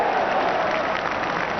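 A home football crowd at Stoke City's ground in 1984/85 roars and applauds in a dense, loud, continuous wash of noise with no breaks.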